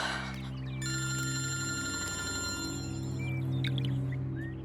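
A telephone ringing on and on with no one answering, a clear repeating electronic ring tone that sounds close by, steady and alone with no talk.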